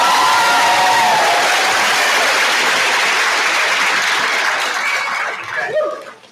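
Loud applause with some cheers and light laughter from the audience at a school board of education meeting, sustained for several seconds after tenure appointments of teachers are announced, then tapering off.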